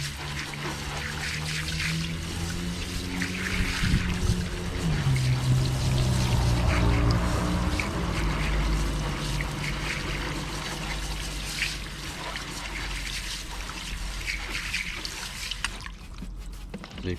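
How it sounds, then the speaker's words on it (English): Water is poured or sprayed over a car wheel to rinse off Bilt Hamber Auto Wheel cleaner, giving a steady, close splashing and trickling that runs throughout, with a low hum beneath. "straight away rinse it off afterwards with water"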